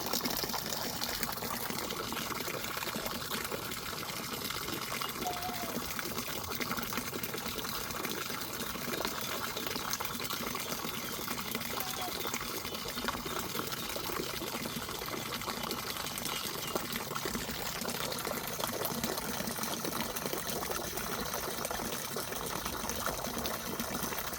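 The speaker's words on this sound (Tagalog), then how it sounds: "Tubig natin pinapalitan ng bago" Fresh water running and filling as old water is replaced, a steady continuous gushing hiss with a faint mechanical hum underneath, unbroken and fairly even throughout.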